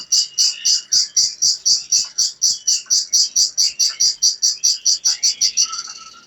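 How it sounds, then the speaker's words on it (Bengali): Village birdsong, a close, loud bird repeating a rapid, regular series of bright chirps at an even pulse, with faint background sounds underneath and no talking. "পাখির ডাক, হালকা বাতাস"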